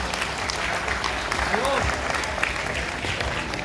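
An audience at a religious gathering applauds to welcome a guest, a sustained wash of crowd clapping with a voice briefly heard through it.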